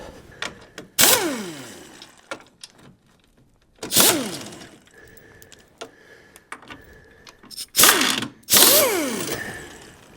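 A ratchet works 13 mm bolts loose on the M54 engine of a 2001 BMW E46 325xi, giving several bursts of quick clicking separated by pauses and small clanks, close by.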